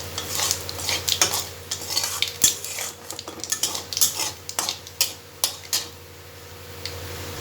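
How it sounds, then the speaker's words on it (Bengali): Nigella seeds tempering in leftover hot oil from frying potatoes, with a spatula scraping and clinking against the pan in irregular strokes over a soft steady sizzle, close up with no talking. "কালো জিরা ফোড়ন দিচ্ছি"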